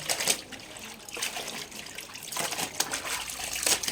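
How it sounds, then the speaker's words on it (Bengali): Water trickles and splashes steadily while clothes are washed by hand at home, with uneven sloshing bursts and no talking. "কাপড় একটু ধুয়ে দিই"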